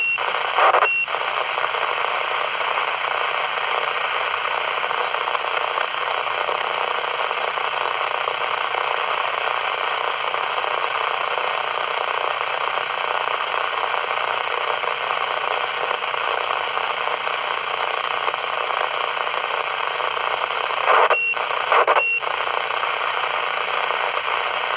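A Cobra 29 CB radio gives off a steady, continuous broadband hiss of static at a constant level for the whole stretch, broken by two brief clicks near the start and near the end.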